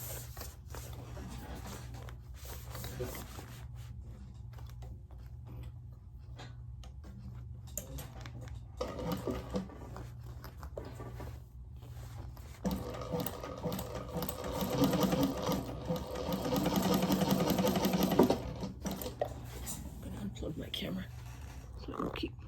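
A sewing machine stitches a laptop bag in bursts, louder and steadier toward the end, with a person talking quietly over the low running hum and handling noises.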